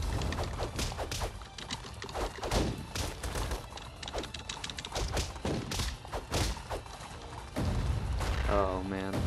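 Bombs burst repeatedly in the side-scrolling brawler Castle Crashers, a run of dull thumps and blasts mixed into busy game music and effects while a player talks over the action.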